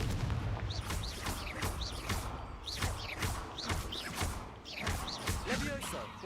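Repeated Confringo fire-spell blasts from the Hogwarts Legacy video game, a dense run of booming bursts with whooshing crackle, loud and steady throughout amid busy game sound and speech.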